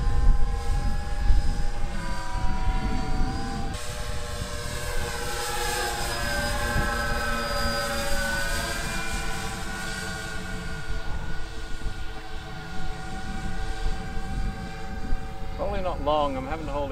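A large 3 m wingspan RC Lancaster model bomber flies overhead at full throttle, its multiple electric motors giving a steady, loud droning whine that shifts in pitch as it passes, with a voice speaking over it.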